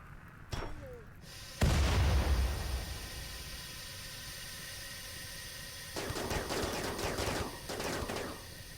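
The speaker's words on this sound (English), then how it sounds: "Grenade barrage." Grenade barrage in RimWorld: a sharp pop is followed by a loud, heavy explosion that rumbles and fades over a few seconds. Then a dense stretch of rapid repeated blasts and crackling gunfire comes in, with no voices.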